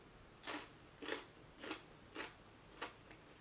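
Someone bites into crispy fried noodles served with wok-fried pippies in chili and garlic sauce. About five crisp crunches come roughly half a second apart, quiet and close, with no talking.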